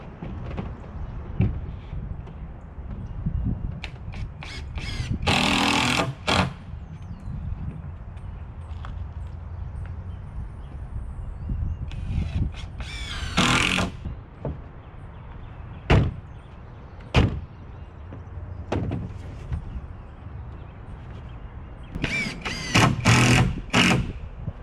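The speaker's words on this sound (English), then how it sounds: "And once you do that, you can finish screwing it." A drill drives screws through plywood into studs while building a half pipe, with several loud whirring bursts and scattered sharp knocks and clatters in between.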